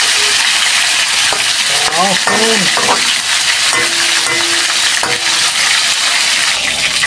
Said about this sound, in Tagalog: Sige, maprito-prito lang siya ng konti.